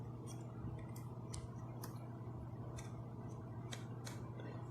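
The headband of an EPOS C1 USB-C wired headset ratchets through its adjustment steps, giving a series of small, crisp, close clicks spaced irregularly over a low background hum.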